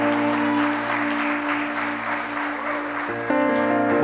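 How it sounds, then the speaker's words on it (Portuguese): A church youth congregation applauds continuously in a full, even wash of clapping. Sustained keyboard chords ring underneath, and the tone shifts near the end. "aplauda o Senhor"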